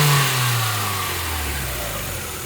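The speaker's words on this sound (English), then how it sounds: "I could do a little rev under the hood." Mazda NB Miata engine with a full exhaust revving once then settling back, a loud close blip that drops to a steady idle hum.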